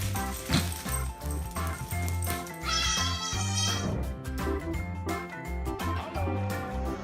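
A kitten meows several times, the small cries standing out over a loud backing of music.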